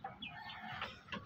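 A native chicken, an upgraded cross sired by a Red Shamo Asil, gives soft clucking calls in a quiet pen, faint and close, with a few short bursts.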